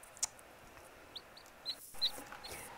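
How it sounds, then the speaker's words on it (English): Little chicks chirp faintly in brief, scattered high peeps over a quiet indoor background during a colouring session. "I have the little chicks who keeps singing for you"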